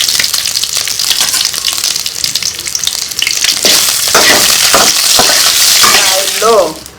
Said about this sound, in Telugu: ఆయిల్లో ఎండుమిరపకాయలు కూడా వేయించుకుంటున్నాను.